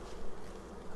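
Honeybees buzz around an open hive box during an inspection, a faint continuous hum of many insects with no voices over it.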